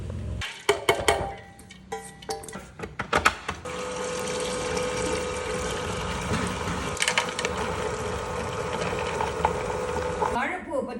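A wet grinder churning urad dal with ice cubes for idli batter, starting with clattering knocks and bursts, then settling into a steady loud mechanical whir that runs on until it stops near the end.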